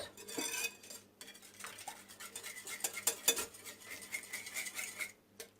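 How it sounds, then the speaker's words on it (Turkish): A spoon stirring sugar-free pancake batter in a bowl, quick irregular scraping and clinking strokes against the sides, close and soft, with brief pauses between bursts. "Şöyle güzelce bir karıştırıyoruz."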